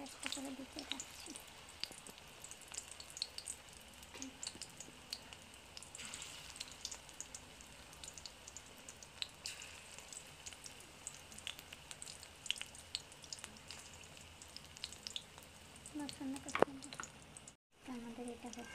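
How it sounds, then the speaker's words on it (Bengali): Pieces of batter eased one at a time into hot frying oil, giving a steady soft crackle and patter of sizzling bubbles throughout, with a sharper pop near the end. "আমাদের তেল গরম হয়ে গেছে, তো আমরা ছাড়ছি আস্তে আস্তে করে।"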